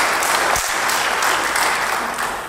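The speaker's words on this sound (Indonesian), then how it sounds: "Beri tepuk tangan bagi dia." Loud, dense applause from a church congregation, close and continuous for a couple of seconds before tapering slightly.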